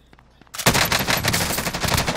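Automatic gunfire from a gun in Call of Duty: Modern Warfare, a sudden loud burst of rapid shots that starts after a quiet moment and keeps rattling to the end.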